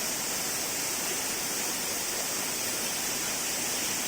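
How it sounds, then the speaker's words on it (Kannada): Varanga Theerthakal waterfall pours in a steady, unbroken roar of falling water, dense and even throughout. "super falls, ತೀರ್ಥಕಲ್ falls"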